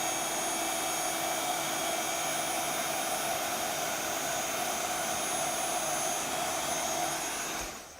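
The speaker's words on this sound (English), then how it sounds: "we're just holding that heat gun still" A heat gun blows hot air to melt embossing powder on a stamped card, giving a steady, close, loud whooshing roar with a faint whine that holds evenly and tails off right at the end. No one speaks.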